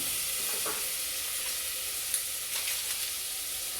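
Butter sizzles in a pan on medium-low heat, a steady close frying hiss with a few faint stirring taps, no talk.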